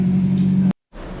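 A Nissan Micra race car circuit racing at Snetterton on a slippery first lap, its engine droning steadily and loud, then cutting out abruptly for a moment before resuming as a lower, rougher rumble.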